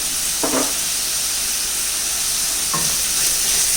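Egg biryani masala with onions frying in a pan, a loud constant hiss of sizzling oil with a few short scraping stirs of a spoon, no voices.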